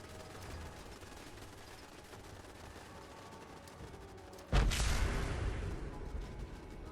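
Turrets opening fire on stormtroopers in the video game Fallout 4: a steady low rumble of distant battle gives way to a sudden loud blast, followed by sustained heavy gunfire and booming.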